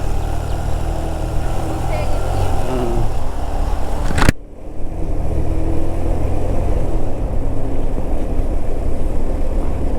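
Motorcycle engine labouring on the hilly road to Sajek, a steady broadband drone running throughout, briefly dipping midway, with someone talking over it.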